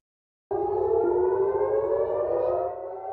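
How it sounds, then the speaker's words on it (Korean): A loud air raid siren in the Israeli port city of Haifa starts abruptly and wails steadily, its sustained tone holding without pause. "이스라엘 최대 항구 하이파에 공습 사이렌이 울려 퍼지고"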